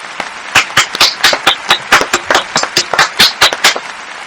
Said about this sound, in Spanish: donar un aplaudiment i encara més fort per nosaltres